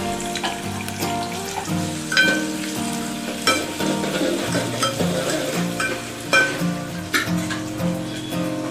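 Onion frying in a pan on a gas stove, a steady loud sizzle with crackling and stirring clatter throughout, no voices.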